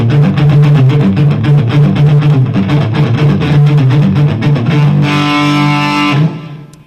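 Heavily distorted electric guitar chugs a fast, steady riff up close, then rings out on a sustained chord that fades away.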